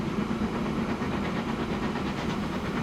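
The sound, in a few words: train moving in Transport Fever 2 video game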